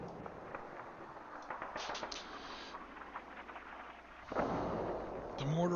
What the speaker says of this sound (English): The mortar fired.